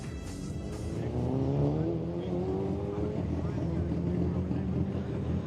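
Race cars at the Katukurunda racing circuit roar steadily, engine tones rising and falling as they pass at moderate distance, with a commentator talking over the noise throughout.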